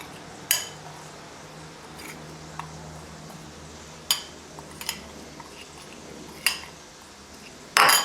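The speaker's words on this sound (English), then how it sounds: "So just mix up the dry spices a bit." A spoon stirs dry spices in a bowl for butter chicken, giving a few sharp, close clinks against the bowl spread across quiet stirring, with a louder knock at the end.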